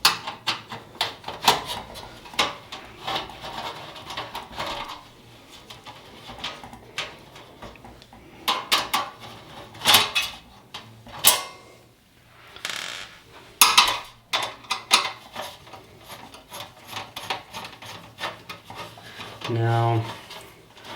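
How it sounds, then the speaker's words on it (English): Unscrewing a bathroom light fixture from its back panel produces a series of close ratcheting clicks and scraping turns in irregular bursts, ending with a brief buzzing whirr. "I gotta unscrew this."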